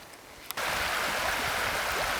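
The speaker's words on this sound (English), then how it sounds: "we are now preparing to cross this river" A river in Lapland, Finland rushes in a steady broadband wash that starts abruptly after a brief quiet moment with a click, then continues loud and unbroken close by.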